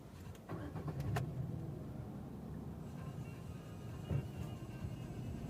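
A 2012 Hyundai Accent 1.6 petrol engine cranks briefly and catches, then settles into a steady, quiet idle heard from inside the car.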